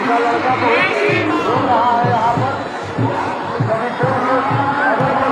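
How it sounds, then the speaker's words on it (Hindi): A large gathering of devotees at a 104-foot Hanuman statue fills the air with steady, close crowd murmur and chatter, a dense wash of many voices with occasional laughter. "आप लोगों की भीड़ देख सकते हैं"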